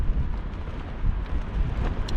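Gusty wind buffets the microphone in low, rumbling bursts while sea fishing on the Humber, rising and falling without any voices.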